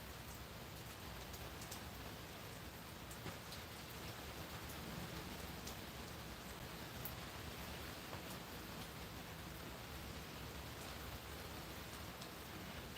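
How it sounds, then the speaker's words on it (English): Heavy rain falls on a desert homestead, a dense constant wash of drops on surfaces, steady and unbroken with no voices. "just about 2 inches of rain out here so far. And the heavy stuff hasn't hit yet"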